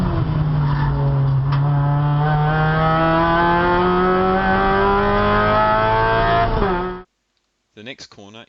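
A race car drives at speed through turn 4 of the Phillip Island GP circuit, its engine holding a loud, steady high-revving tone that climbs slightly in pitch, then cuts out abruptly before a brief faint burst.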